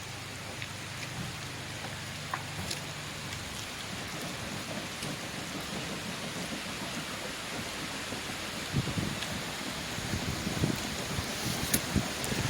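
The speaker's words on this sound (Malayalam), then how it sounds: "ഓ മഴ തുടങ്ങി." Rain starting to fall at Neyyar Dam in Kerala, a dense steady patter of drops on surfaces that grows slightly heavier toward the end, with faint distant rumbling and no talk.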